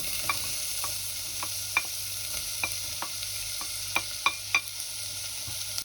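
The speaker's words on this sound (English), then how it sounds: "stir that every so often over the course of about 6 or 7 minutes until the onions are really cooked through" Diced Spanish onion fries in olive oil in a saucepan, a steady soft sizzle broken by light, intermittent taps and scrapes of stirring, close and without speech.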